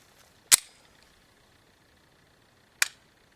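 An FMK9C1 pistol firing 124 grain full metal jacket rounds gives two sharp, isolated reports about two seconds apart. Each crack fades quickly, with nothing between the shots.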